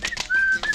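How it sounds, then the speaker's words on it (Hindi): A shrill whistle blows in a short sequence: two quick chirps, then one long sustained tone, then another brief blast, loud and close with no talk. "सीटी बज गई, सीटी बज गई।"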